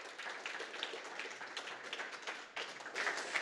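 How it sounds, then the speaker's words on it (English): Audience applause for a speaker at a Python meetup, a short, faint round of clapping from a small crowd that swells slightly near the end. "Please give him a round of applause."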